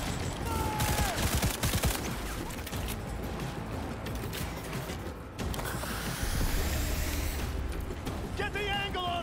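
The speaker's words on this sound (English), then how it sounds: "Keep firing, goddammit!" Dense gunfire in Cyberpunk 2077 during a firefight, rapid bursts and mechanical clatter layered over a busy game mix with music, steady and loud throughout.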